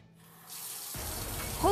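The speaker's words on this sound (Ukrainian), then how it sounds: "Включаем гарячу воду і перевіряємо, що ж оттуда течет." A hot water tap opens and water gushes into a sink, a steady close splashing rush that grows louder toward the end, with no talk.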